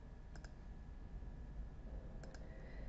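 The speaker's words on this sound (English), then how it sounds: "To enter data, just click on the cell." A computer mouse clicks on spreadsheet cells, with two quick double clicks, one early and one later, faint and close against a low background hum.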